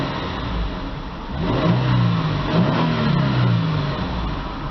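A 2002 Nissan Pathfinder engine runs at a steady idle, then revs up several times in rising and falling sweeps, close and fairly loud, before settling back toward idle.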